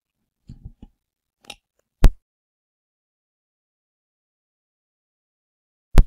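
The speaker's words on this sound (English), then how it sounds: "if you hear a clicking noise, for some reason this headset has a mute switch instead of a button" A headset's mute switch being flipped gives a few tiny ticks, then two sharp, distinct clicks about four seconds apart, each isolated against silence.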